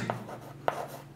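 Short strokes of writing on a board during a classroom grammar lesson, two or three distinct scratchy taps in quick succession, close and faint with no talk over them.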